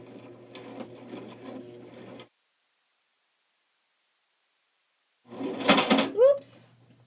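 Sewing machine stitching slowly through bulky fabric layers of a zippered pouch, two short bursts of mechanical whirring separated by a silent pause, with a brief squeak at the end.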